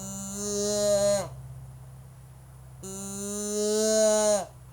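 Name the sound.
deer call imitating doe bleat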